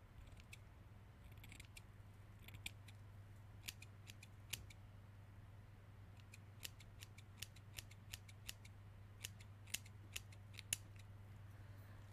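Scissors trim hair bangs with quiet, crisp snips that come in irregular clusters over a steady low hum, close but faint.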